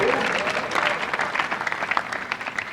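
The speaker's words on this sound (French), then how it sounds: "Sous vos applaudissements, s'il vous plaît" Steady, dense applause from a seated audience at a diploma ceremony for Congolese laureates, loud and sustained throughout with a faint murmur of voices underneath.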